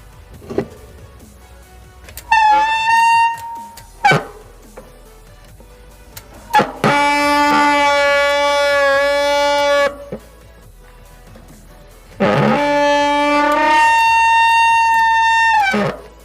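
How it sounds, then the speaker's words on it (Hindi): Loud, close bicycle disc brake squeals on a Hero mountain bike: a few short shrieks, then two long, sustained high-pitched whines with quieter mechanical noise between them. "डिस्क ब्रेक का साउंड आप लोग सुने, किस टाइप का साउंड आ रहा है"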